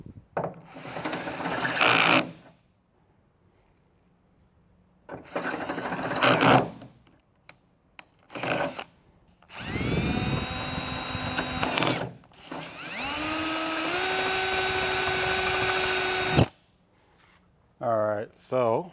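A power drill bores a hole in a Cybertruck body for a rear camera washer, running in several bursts that rise to a higher-speed whine. Short pauses fall between the runs, and no one talks.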